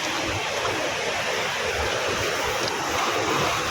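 Strong sea waves churn steadily during the amihan wind, a continuous broadband wash of surf with wind rumble against the microphone, loud and close, no voices.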